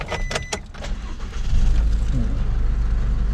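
An Isuzu D-Max 1.9 pickup with automatic transmission cranks briefly after a few clicks, then catches and settles into a loud, steady idle close by.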